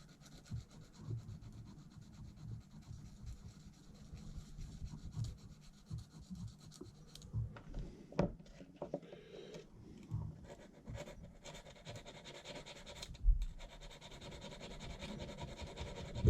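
Godhand cutters being resharpened, a quiet close-up rubbing and scraping of the blade against an abrasive, irregular strokes with small pauses and a few sharper scratches.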